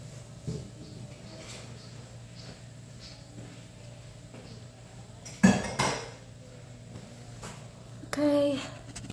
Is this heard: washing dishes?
yes